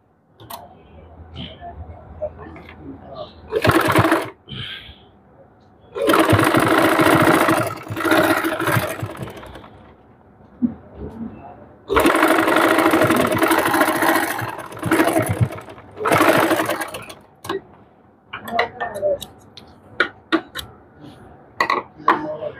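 A sewing machine stitches the sleeve of a double-part blouse, running in several loud whirring bursts a few seconds long, separated by short quiet pauses.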